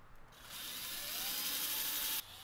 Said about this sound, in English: And drill some pilot holes for the bridge.